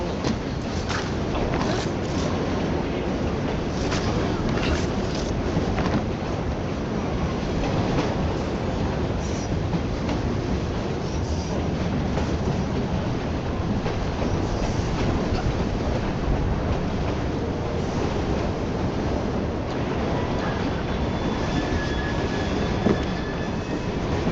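Steady, dense rumble of a moving train in Assassin's Creed Syndicate, set in Victorian London, with continuous rolling rail noise and faint squeals running loud and unbroken throughout.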